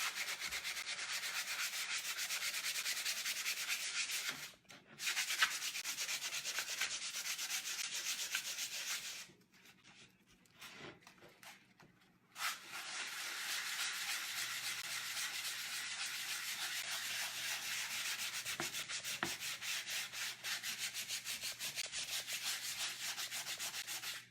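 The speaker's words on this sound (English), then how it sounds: "So you could keep sanding." Close, rhythmic scraping of sandpaper rubbed back and forth by hand on painted wood, continuing for a long stretch with a couple of short pauses.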